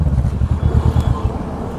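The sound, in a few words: Kawasaki Ninja 650 two-cylinder motorcycle with Akrapovic exhaust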